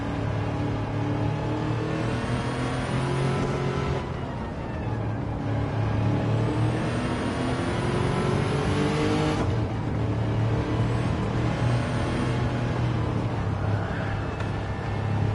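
A loud engine-swapped Toyota Tundra truck in a Gran Turismo 7 race revs and climbs through gears, with pitch rising, dropping at shifts, then rising again, continuous and close throughout.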